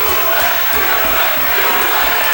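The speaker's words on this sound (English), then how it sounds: "The crowd here at the Impact Zone, loving every second of it." A wrestling crowd at the Impact Zone arena roars and cheers throughout, a loud, continuous wash of many voices with shouts rising out of it and no pauses.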